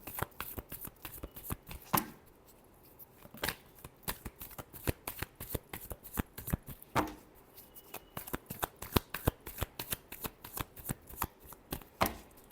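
Tarot cards are shuffled by hand up close, a rapid series of crisp riffling slaps and flicks in bursts with short pauses, fairly quiet with no talking.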